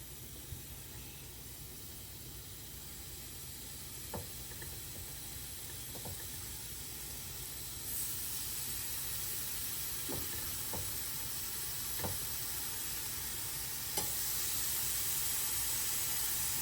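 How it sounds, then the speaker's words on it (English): Mini cheeseburger patties sizzle in a hot pan, a steady, fairly quiet hiss that runs the whole time and grows slightly louder partway through, with a few faint clicks and taps on top. "You want to hear that sizzle when you put them in. That means that your pan is hot enough."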